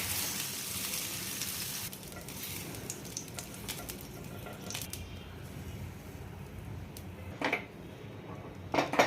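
Besan chilla batter fries on a hot pan with a steady hissing sizzle, punctuated near the end by a few brief clinks and scrapes of a utensil.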